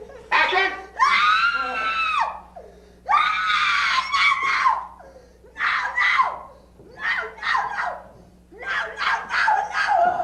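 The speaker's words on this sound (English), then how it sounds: "Oh, be careful of Grandma's scream." A woman screams during a film scene shot for Texas Chainsaw Massacre 2, several loud, long shrieking bursts separated by short pauses over a low steady hum, with a dog barking and faint laughter mixed in.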